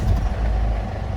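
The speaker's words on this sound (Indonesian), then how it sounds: "Kita coba nyalakan mesinnya." A 2008 Ford Everest with a 2.5 Duratorq TDCi turbo diesel, warm and at 200,000 km, rumbles low and steady as it starts, a brief close engine sound with no talk.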